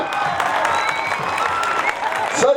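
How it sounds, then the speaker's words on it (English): An audience at a peace rally claps and cheers for performers, dense crowd applause building with voices mixed in. "You should clap much louder and cheer for them."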